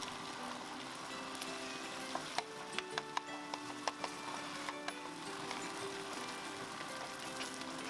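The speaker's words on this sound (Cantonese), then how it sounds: "用中快火1茶匙嘅油，將啲雞蛋煎成一塊蛋餅。" Eggs fry into a thin omelette sheet in a teaspoon of oil over medium-high heat while Singapore noodles are made. A quiet, steady sizzle runs throughout, with a few sharp utensil clicks near the middle.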